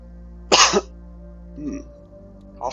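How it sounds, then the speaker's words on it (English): A person coughs and hiccups at the same moment, producing one abrupt, harsh burst. A smaller voiced catch follows, then a brief throaty sound at the end. "Cough and hiccup at the same time."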